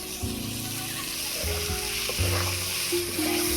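Prawns dropped into a hot pan with coriander powder, chili powder and salt, frying with a steady sizzle close by and soft stirring scrapes throughout.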